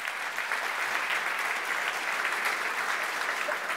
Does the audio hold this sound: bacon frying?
no